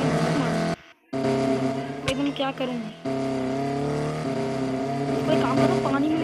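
A Lamborghini in a video game drives off with a steady, droning engine note, broken by a brief cutout and a short sharp transient, while someone talks over it.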